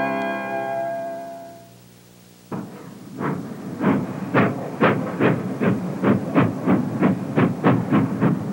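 A steam whistle sounds and fades, then industrial short-line steam locomotive number 16 starts chuffing with empty air dump cars, its rhythmic exhaust beats growing louder and quicker as it pulls away.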